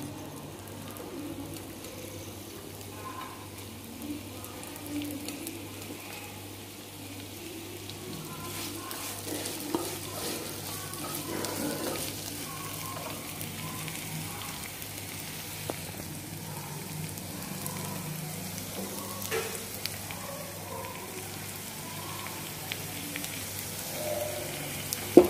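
Onions frying in hot oil on a stove for a Kannur-style muttayada, a soft, steady sizzle with scattered small pops, continuous and fairly quiet throughout.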